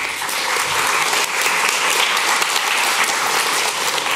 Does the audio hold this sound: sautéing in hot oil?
no